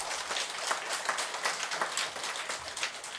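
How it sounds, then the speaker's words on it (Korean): Sustained applause from an audience at a regular Buddhist temple dharma service, many hands clapping in a dense, even patter that holds steady throughout without pauses. "박수 쳐주세요"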